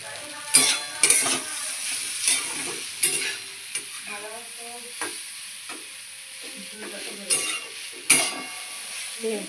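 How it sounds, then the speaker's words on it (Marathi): Khichdi stir-fried in a pan, heard as a soft sizzle under spoon scrapes and clinks of utensil on metal that come in irregular bursts, close by, with no voices. "खिचडी परतते"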